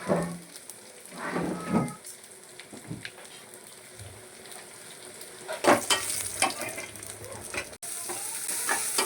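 Mustard seeds, cumin and curry leaves sizzle in hot oil, a steady crackling hiss with scattered pops and a louder burst of spattering later on, close by, with a few faint background sounds and no talk.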